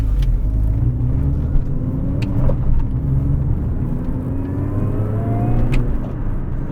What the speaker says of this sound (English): That's supercharger whine.